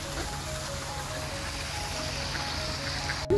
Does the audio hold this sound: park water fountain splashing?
yes